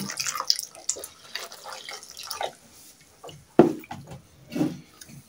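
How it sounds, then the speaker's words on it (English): Water is poured and splashed into a mix of charcoal dust and cassava flour while it is stirred, producing irregular close drips and wet sloshes with a few sharper splashes. "So I'll add water as I stir first."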